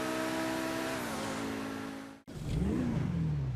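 A car engine in GTA Online revs high and holds a rising whine that drops away, then after a brief cut fires up again with a deep rumble and climbing rev, alone with no voices.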